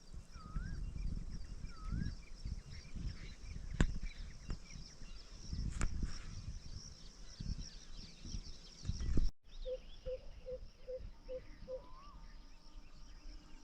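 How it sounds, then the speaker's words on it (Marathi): Birds chirping outdoors in a rural setting, a few short scattered calls and a quick run of repeated chirps, faint against low wind and rustle, heard alone without talk. "पक्ष्यांचा मस्त असा चिवचिवाट चालू आहे."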